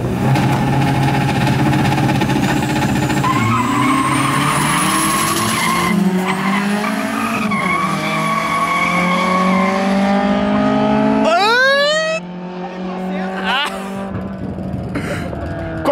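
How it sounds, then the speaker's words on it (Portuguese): Car doing a burnout at a drag-style start line to heat its tires, a loud engine revving hard with squealing, spinning tires throughout, the pitch rising and falling before settling, and faint voices under it. "Burnout para testar aí a largada e aquecer os pneus."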